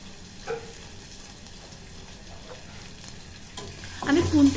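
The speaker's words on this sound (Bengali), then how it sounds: "আদাটা খুব ভালো করে ভেজে নিতে হবে" Crushed ginger fries in oil with cumin and bay leaf for a sabudana khichuri, giving a steady low sizzle broken by occasional faint ladle scrapes. Near the end the sound swells and a brief voice is heard.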